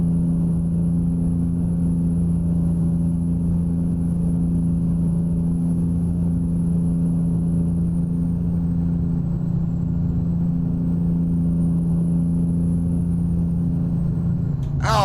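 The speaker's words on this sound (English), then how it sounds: "the only sound right now that I really don't like in the game are the engine sounds" A steady, droning truck engine in the video game American Truck Simulator hums continuously at a constant level, low and heavy, with a faint high whine drifting above it.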